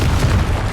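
A single Confringo blasting-spell explosion in the video game Hogwarts Legacy, a brief, loud, deep boom heard close up with no one speaking.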